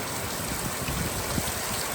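Steady rain falling over a Punjabi farm setting, a continuous close wash of drops and hiss with no voices, even in loudness throughout.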